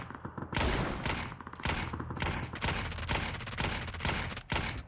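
Rapid automatic gunfire in PlayerUnknown's Battlegrounds, loud, near bursts that continue almost the whole time, with short pauses and shifting rhythm between volleys.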